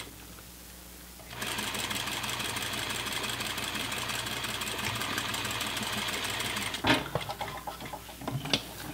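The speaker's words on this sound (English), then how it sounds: "So we've got our pocket seam sewed here." A sewing machine stitches a pants pocket seam, starting after a quiet moment and running in a steady, fast, close mechanical whir for about five seconds before stopping, followed by a few soft handling clicks.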